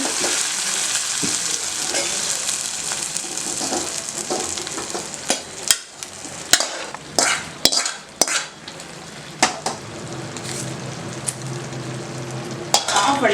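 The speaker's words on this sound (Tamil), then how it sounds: "தாளிப்பு ரெடி ஆயிடுச்சு. தாளிப்பால் போட்டுறேன்." Hot tempering poured into avial, a loud steady sizzle in a pan with a series of sharp clinks and scrapes of a spoon against the vessel, close and continuous.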